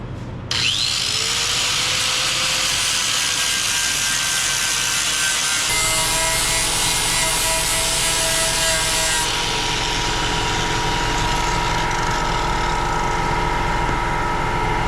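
Power grinder working rusty body metal on a Nissan 300ZX, preparing a spot for a tack weld: a continuous loud, harsh abrasive whine that shifts slightly in pitch as pressure changes, with no pauses.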